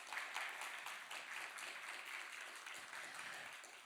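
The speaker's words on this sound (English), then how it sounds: "An applause." Audience applause at a talk on commercial insect farming, a steady wash of many hands clapping at moderate, somewhat distant level, fading slightly toward the end.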